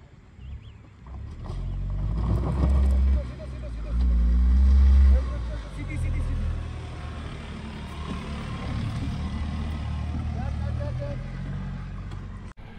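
A Tata Punch engine labours up a steep off-road slope, a low rumbling drone that surges twice in loud bursts and then settles into a sustained, strained hum, with people talking over it throughout.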